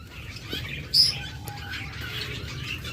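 Caged pet birds such as budgerigars, cockatiels and lovebirds give a few faint chirps over low background noise, with one brief sharper call standing out.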